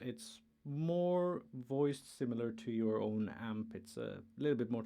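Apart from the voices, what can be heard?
No everyday noise stands out behind the speech.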